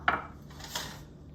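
About a quarter cup of butter goes into a pan over medium-high heat to start a cheese sauce: one sharp close knock, then a softer scrape, with no sizzle following.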